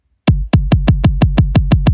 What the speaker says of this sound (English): So it's a completely synthesized kick that sounds very much like it